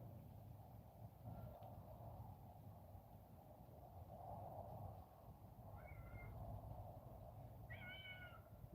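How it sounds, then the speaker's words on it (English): A cat calls outdoors at a rural site being cleared for a stand: two short, faint meows late in the clip over steady low wind and ambient rumble, no talking. "I got a cat calling for me."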